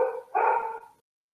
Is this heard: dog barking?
yes